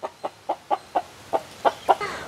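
A Sembai rooster on a poultry farm, about 11 months old and near 4 kg, giving a run of nine short, evenly spaced clucks close by, with no talking.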